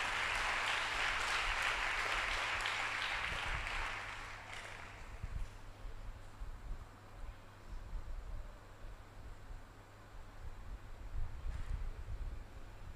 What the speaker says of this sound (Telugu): కొట్టు చప్పట్లో ఒకసారి.